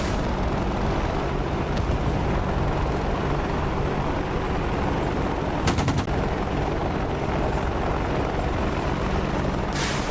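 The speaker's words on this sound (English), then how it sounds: "Apaches have sunk their teeth into enemy infantry that the convoy has already passed and that poses no threat to it." Apache attack helicopters in the DCS combat game firing on infantry: a dense, steady rotor and battle roar with sharp bursts of gunfire near the middle and end, loud and continuous without talk.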